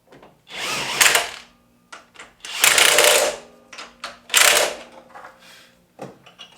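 A power tool tightening fresh bolts, heard in several loud whirring bursts of about a second each, separated by short pauses and small clicks, with no talking.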